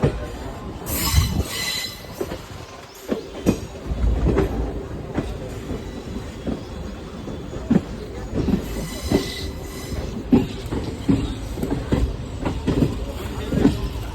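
Train cars rolling toward Rajkot station in India, with wheels clattering and squealing steadily throughout and bursts of rail noise rising over a constant rumble, plus faint voices in the background.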